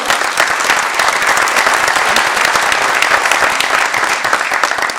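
At a mayoral candidates forum in Waukegan, an audience gives loud, sustained applause to volunteers, with dense rapid clapping filling the room evenly from start to finish.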